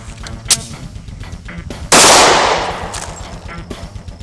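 A single 9mm pistol shot fired at a bulletproof vest, a sharp loud crack with a brief decaying tail, preceded by a smaller click or impact and faint background noise.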